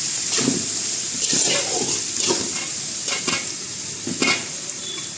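Cabbage and mixed vegetables sautéing in a pan for a chole pulao, a steady sizzle with several bursts of stirring and scraping, close and moderately loud.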